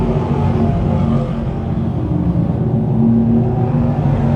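Dirt-track sportsman race cars race around the Can-Am Speedway in a steady, loud engine roar. The pack's droning revs rise and fall evenly through the whole stretch without a break.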